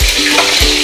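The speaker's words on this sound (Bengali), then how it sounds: "তো এখন মাছটা ভাজছি" Pieces of fish frying in hot oil, a loud close crackle and sizzle with a couple of soft low knocks as the pan is handled, no voices.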